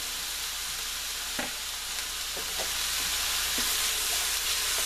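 Cabbage stir-fries in a hot pan for vegan yaki soba, a loud, continuous sizzle with scattered scraping stir sounds throughout and no talking.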